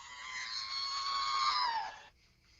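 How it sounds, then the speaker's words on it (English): A recorded scream plays back as a single sustained high-pitched shriek. It holds steady, then bends downward before cutting off abruptly to near silence. "I'm just playing a scream."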